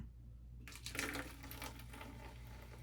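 Great Value root beer poured from a 2-liter bottle, a soft fizzing, splashing stream starting after a short silence and continuing steadily to the end, close and moderately quiet.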